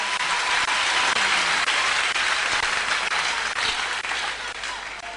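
Church congregation at a worship service in Brazzaville, Congo, applauding and cheering in a dense, steady wash of clapping that stays loud throughout and eases slightly at the end.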